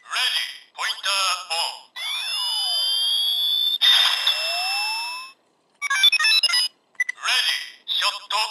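A Kamen Rider Faiz Phone X toy from Kamen Rider Zi-O gives loud electronic beeps, chimes and a rising synth sweep with a voice callout as pointer mode switches on, in several bursts with short gaps.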